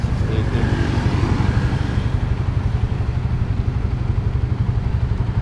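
A 2024 Suzuki Raider 150 FI motorcycle in Candy Matte Red idles steadily nearby with a low, even engine chug throughout, under a faint voice.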